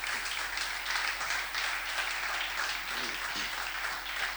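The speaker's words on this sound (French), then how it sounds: "Nous allons acclamer la parole du Seigneur" A church congregation applauds together in acclamation of the word of the Lord, sustained moderately loud clapping that swells and ebbs for several seconds, with a faint murmur of voices underneath.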